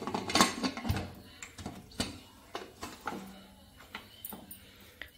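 A pressure cooker holding dal, water and turmeric gets its lid fitted in a home kitchen, producing a run of sharp metallic clanks and scrapes, loudest at the start and then spaced out and softer.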